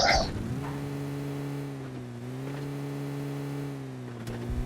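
A car pulls away with a steady engine drone of stable tones, heard from inside or close by, fairly loud and with no talking.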